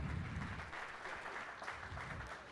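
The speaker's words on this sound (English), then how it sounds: "How about a round of applause for the world champion auto auctioneer team" Steady audience applause at an auto auctioneer awards ceremony, a continuous wash of clapping from a large crowd, moderately distant and even throughout.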